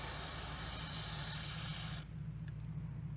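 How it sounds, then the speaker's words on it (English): Aerosol carbon choke cleaner sprayed onto a Jeep idle air control valve, a loud steady hiss for about two seconds that cuts off abruptly, leaving a low hum behind. "Carbon choke cleaner."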